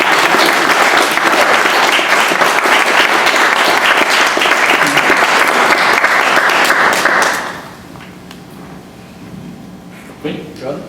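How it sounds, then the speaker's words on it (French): Lecture-hall audience applauding after a talk: loud, dense clapping from many people that holds steady for about seven seconds, then drops away abruptly to a quiet room with a few faint stray sounds and murmurs. "Déjà, on applaudit."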